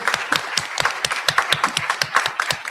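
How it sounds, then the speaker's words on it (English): Applause from a conference audience for a champion, at a policy implementation event: a small group's individual claps ring out in a loose, uneven rhythm, fairly close and clear, with no talking over them. "Can we have a round of applause for our champion?"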